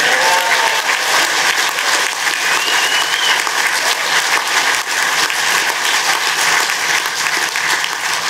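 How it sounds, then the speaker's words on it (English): A large crowd at a Brexit Party rally in Edinburgh claps continuously, loud, dense applause filling the hall without pause and staying near and steady throughout. "With all that clapping, I'm out of time."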